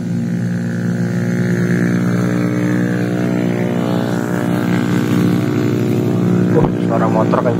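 A camera drone's motors spin up on the ground outdoors, giving a loud, steady, buzzing whine of layered tones that holds throughout. A brief clatter comes near the end.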